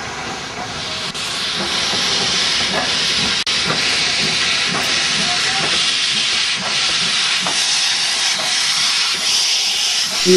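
A steam locomotive at Selebi Phikwe releases a loud, continuous hiss of steam for about ten seconds, with faint metallic clicks beneath it and no talking.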